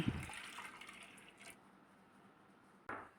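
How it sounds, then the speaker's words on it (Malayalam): Water pours briefly into a pot of lentils with a splashing gush, then quiets to a faint trickle before a small knock. "പരിപ്പ് വെന്ത് കിട്ടുന്നതിനാവശ്യമായ കുറച്ച് വെള്ളം കൂടി ഒഴിച്ചു കൊടുക്കാം"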